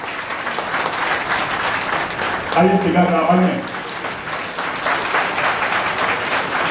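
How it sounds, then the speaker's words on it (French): A crowd at a political gathering applauds steadily for a man being honoured, a dense and fairly loud roar of clapping with voices calling out over it. "Je vous demande d'applaudir Aliou Diallo."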